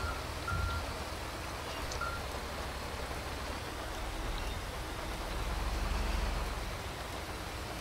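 Rain falls steadily in the GTA V video game, a soft, even hiss of drops with a low rumble underneath, constant throughout with no voices.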